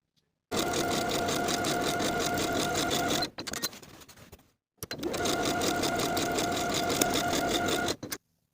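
Sewing machine top stitching a seam allowance on a denim jacket, two loud sustained runs of rapid needle chatter separated by a short quiet pause, no talking.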